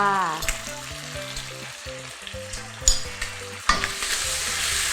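Bacon stir-fried in a wok with oyster sauce and fish sauce, a loud continuous sizzle with clanking spatula strokes and a sudden surge of frying partway through.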